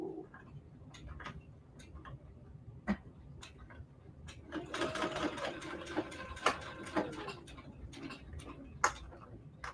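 A Brother SE600 sewing machine stitching quilted placemats runs in bursts with a rapid mechanical chatter, louder in the middle, with scattered sharp ticks and clicks throughout; no talking.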